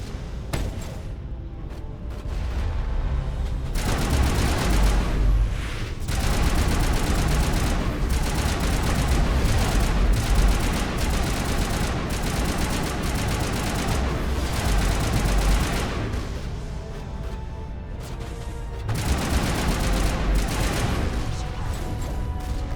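Turret gunfire in the Mass Effect video game, with dense, sustained bursts of rapid automatic shots and booming impacts that roll on nearly continuously, loud and close, with brief lulls between volleys.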